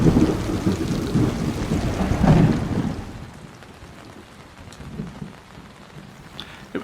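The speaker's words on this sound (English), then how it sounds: "Lightning forked into the beach, and the almost deafening crash of thunder seemed to hang right over the camp." A thunderstorm over a beach camp in Bolivia, heard as a loud rolling crash of thunder over steady heavy rain that gradually fades to quieter patter, with no voices.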